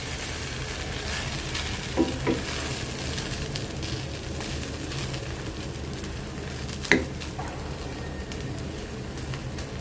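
Semai vermicelli with grated coconut stirred in a pan, a soft continuous sizzle with occasional scrapes and a couple of sharp clinks of the spoon against the pan.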